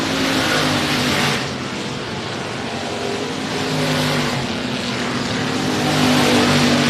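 Race cars roar around the track at Sabine Speedway on the final lap, a dense, loud engine drone swelling and fading as cars pass without any talk.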